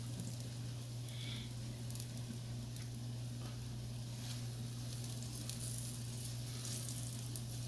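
Thick mini lachha parathas cook slowly in a pan over a low flame, giving a faint, even sizzle that stays steady throughout over a constant low hum.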